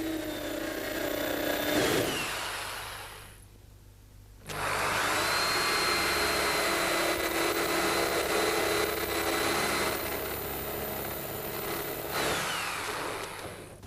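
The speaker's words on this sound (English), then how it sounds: "I'm going to drill out the spot welds with a special drill bit." Power drill with a flat-ended bit cutting out car body spot welds, a steady close grinding whine that stops briefly and then runs on for a long stretch.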